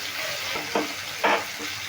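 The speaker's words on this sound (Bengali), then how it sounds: "যার জন্য আমি একটু নুন দিয়ে দিয়ে ভেজে নিচ্ছি" Bengali spice mix frying with salt in a pan for shukto, a steady soft sizzle with a couple of louder scraping bursts from stirring, close and alone.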